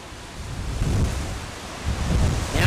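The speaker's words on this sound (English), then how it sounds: "the wind is really gusting, and I want to say causing havoc" Wind gusting across an outdoor lawn bowls green during a mixed pairs tournament final, a broad rushing roar buffeting the microphone, swelling and easing in uneven gusts, fairly loud and close.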